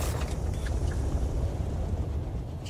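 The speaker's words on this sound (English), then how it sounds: "Man, you really hear that worm moving around." Giant sandworm moving through the desert in the Dune: Awakening survival game, a heavy, continuous low rumble with a windy, broadband roar that stays steady throughout.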